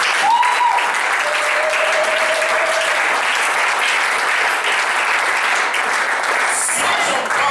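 A church congregation breaks into sustained, loud applause for the Lord, a steady roar of clapping with faint cheering voices underneath that continues throughout.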